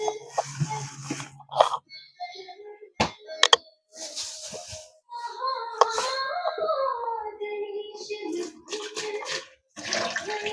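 A tap runs water into a glass set in a clogged kitchen sink, giving intermittent knocks and splashes followed by a sustained rushing flow that fills with a rising tone before stopping, close and moderately loud.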